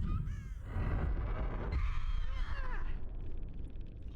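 Crows caw harshly a few times in a video game match, over a dense rumbling game background with low muffled noise.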